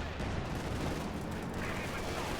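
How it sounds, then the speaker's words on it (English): Sustained gunfire from a Company of Heroes 2 battle, a dense continuous rattle of shots and combat noise at steady loudness throughout, with no clear gaps between bursts. "Good kill the machine gun there. 11 kills. I mean, it just keeps killing."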